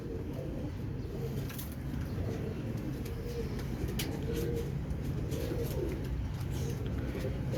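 Teddy pigeons cooing steadily in a loft, soft repeated coos under a constant background hum with faint distant chirps.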